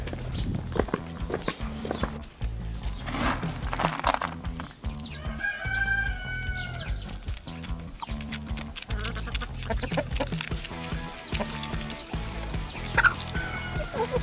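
Hens on a New Zealand lifestyle block farm cluck and squawk steadily through a busy morning feeding, with frequent overlapping calls, scuffling and rustling close by, and no talk.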